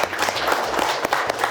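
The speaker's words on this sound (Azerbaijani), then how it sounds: "Alqışlar bir dənə o gedayı." An audience at a comedy talk show claps in a brief, dense burst of applause, steady and close throughout.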